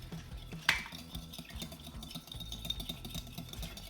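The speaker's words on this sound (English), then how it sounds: "And go ahead and whisk it together." A whisk clinks steadily against a bowl while mixing milk into a mixture for baked chicken nuggets, a quick, close, light rhythmic scraping with one sharper knock near the start.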